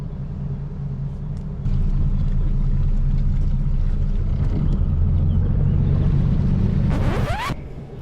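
A sailboat's engine, running hot, drones in a constant low, loud rumble throughout, with a brief rising mechanical whine near the end before it eases slightly.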